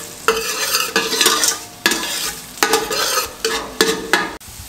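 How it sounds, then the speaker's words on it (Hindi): Chopped garlic and ginger fry in hot oil, a steady crackling sizzle broken up by the scrape and clatter of a spoon stirring the pan every second or so. It is close and fairly loud, with nobody speaking. "हल्का सा लहसुन अदरक को ऐसे हमने सौते कर लिया।"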